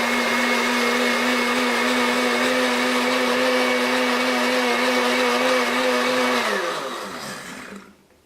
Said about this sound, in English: just put the top on, turn it on, and just blend it up.